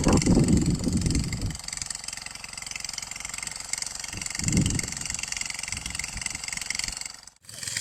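A tractor engine runs steadily in a farm field during seed sowing, with a continuous mechanical drone and low rumble, fairly distant, briefly cutting out near the end.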